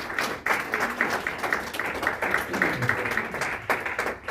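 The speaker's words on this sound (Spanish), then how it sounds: "Y un fuerte aplauso a Dios." A church congregation claps together in a quick, even rhythm, a dense run of sharp hand claps that carries on steadily throughout at moderate loudness.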